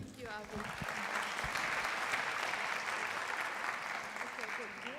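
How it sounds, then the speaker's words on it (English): An audience at a Middle East talk event claps for a speaker in dense, sustained applause lasting several seconds, while a voice speaks at the start and end. "thank you for the applause"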